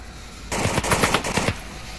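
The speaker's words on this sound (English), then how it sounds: "A lot of suppressive fire on GloboChem." Automatic weapon fire in the VR shooter Onward during a competitive match, a one-second rapid burst of loud, sharp shots standing out over a low background hum.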